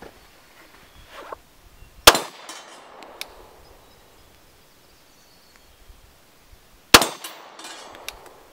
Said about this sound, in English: gonna run some 40 caliber at 15 yards from my Glock 22